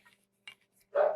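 A pet dog named Maple gives a single loud bark nearby in a home kitchen, preceded by a couple of faint clinks and small sounds.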